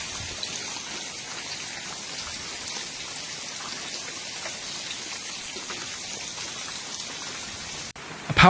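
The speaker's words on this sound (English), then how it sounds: "Huge hailstorm in Piedrabuena." Hailstorm in Piedrabuena, ice balls pelting a town street, heard as a dense, steady patter of impacts across hard surfaces, continuous and fairly loud, ending in a brief cut.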